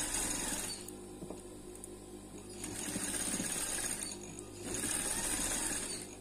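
A sewing machine stitches the wool-blend fabric of a winter djellaba, its motor running in steady bursts with brief pauses as the cloth is guided through.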